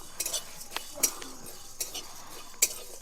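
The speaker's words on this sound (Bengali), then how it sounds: "এবার শুকনো খোলায় মশলাগুলো ভেজে নেব।" Dried red chillies, cumin, black pepper and fennel dry-roast in an oil-free pan while a spoon stirs them, giving faint, scattered metallic scrapes and clinks at an irregular pace.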